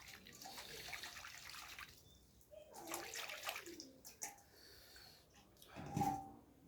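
Green mangoes being washed by hand in water, with splashing and sloshing bursts that rise and fall close by, ending in a louder splash.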